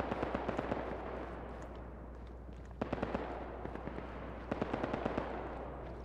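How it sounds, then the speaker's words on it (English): Distant heavy machine gun fire from a vehicle in a military video game battle, with bursts of quiet, rapid rattling and scattered shots over a steady low hum. "Sounds like a heavy machine gun vehicle."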